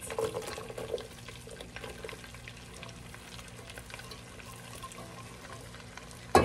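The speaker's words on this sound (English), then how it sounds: "I'm about to put my onions in." Onions start cooking in a pan of melted butter sauce for a seafood boil, giving a steady moderate sizzle with a louder burst at the start and a sharp spike at the very end.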